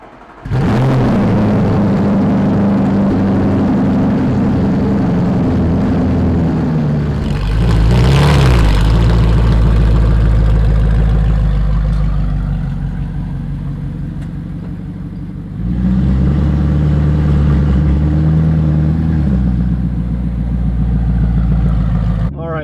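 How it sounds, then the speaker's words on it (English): An Audi R8 engine cold-starts and settles into a loud, rough, uneven idle, with a sharp rev partway through and a steady rumble after; fitted with a GT3 center-exit exhaust. "It's got a crazy rough idle at cold start."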